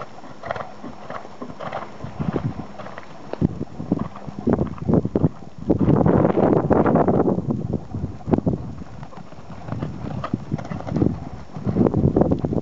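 A horse canters outdoors during a jumping session, rhythmic hoofbeats thudding in a repeating three-beat pattern amid gusty wind noise across the microphone.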